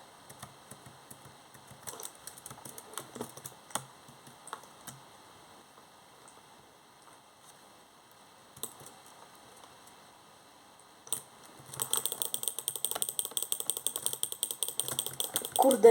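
A computer mouse clicks while playing Minecraft, with scattered faint clicks early on and then a long fast run of rapid clicking near the end, with some talk nearby.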